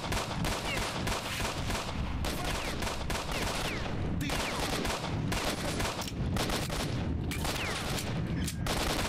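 Sustained gunfire from S.T.A.L.K.E.R. Shadow of Chernobyl, dense overlapping bursts of automatic shots cracking nearly nonstop at a loud, close level, with hardly any talk.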